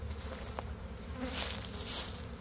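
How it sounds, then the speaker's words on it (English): A swarm of honey bees around a swarm trap with scouts entering, a steady, faint buzzing hum that stays continuous throughout without any voices. "there is also scouts, bees getting in there"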